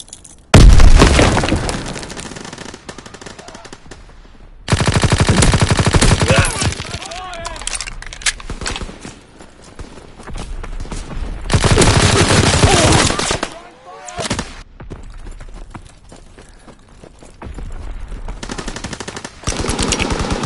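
Loud bursts of machine gun fire in a WW2 video game come in long sustained rattling volleys separated by quieter gaps, with booms and voices shouting over the action.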